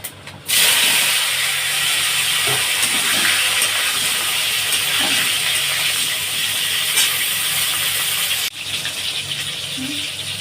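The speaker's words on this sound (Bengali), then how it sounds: "এবারে ফুলকপি আলুটা ভেজে নেব" Cauliflower and potatoes fry in hot oil with bay leaf and cumin, a continuous loud hissing sizzle with faint clinks, briefly dipping near the end.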